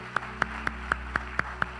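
A church congregation claps to a steady rhythm, eight sharp claps about a quarter second apart over a low sustained organ-like hum of music.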